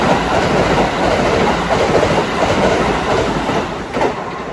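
A train at a station platform in Japan: a loud, steady rumble with rolling wheel clatter filling the whole stretch, close by and uninterrupted by speech.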